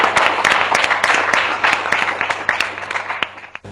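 Applause from the audience at a Pakistan Muslim League (N) gathering for Nawaz Sharif: dense, steady clapping from many hands, loud and close, sustained throughout with individual sharp claps poking through.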